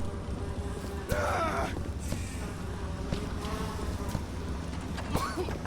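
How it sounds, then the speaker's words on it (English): Insect-like buzzing from a bee swarm in the video game BioShock, a steady droning hum under fuller game ambience with brief louder bursts as the player runs into the bees. "So, just for science, we're gonna run straight into the bees."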